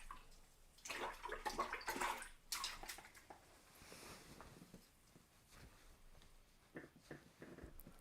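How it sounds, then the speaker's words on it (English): A paintbrush is rinsed in water during a landscape painting session, giving soft sloshing and swishing bursts that rise and fade over several seconds, fairly close and moderately quiet, with no talk. "So we're just going to rinse off our brush."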